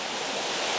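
A steady, broad rush of falling water at the upper waterfall of a landscape, dense and continuous with no pauses, close and fairly loud.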